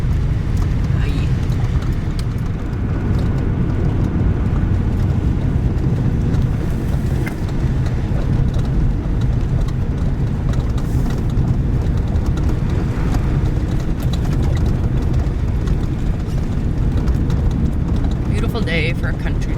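A 1971 International truck drives through sloppy mud, with a steady loud engine rumble and wind buffeting on the microphone throughout.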